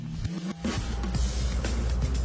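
A freshly rebuilt 350 engine in a mini truck cranks and catches, then settles into a loud, rumbling idle close by.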